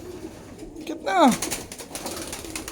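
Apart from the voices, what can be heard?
pigeons cooing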